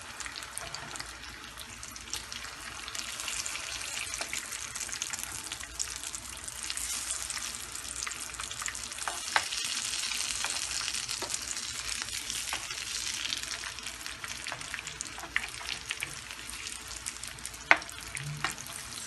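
Chicken shami kababs shallow-frying in hot oil, a dense crackling sizzle that runs steadily throughout, with occasional sharper spits and pops and a faint clink near the end.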